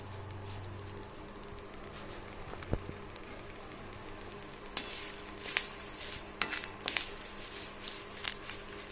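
Food fries quietly in a pan as it is turned by hand, giving a soft, scattered crackling patter that grows busier and sharper toward the end, with no voices.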